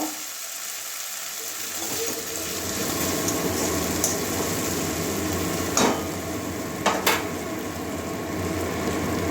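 Ground cumin being stirred into an egg and greens curry in a pan, a steady hiss of frying with soft scraping and a few sharp clicks of a spoon against the pan.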